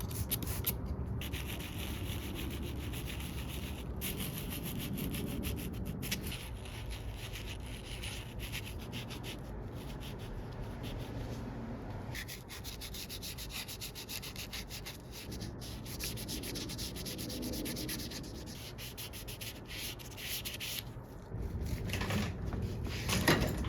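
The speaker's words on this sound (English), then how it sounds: "Let's give this nut the polish it deserves." Steady rubbing and sanding strokes polish a bone nut for a nylon-string classical acoustic guitar, a continuous close scratchy friction that runs without a break and without talk.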